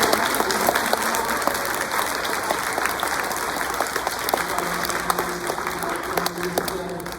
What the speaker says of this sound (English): give the second grade a great round of applause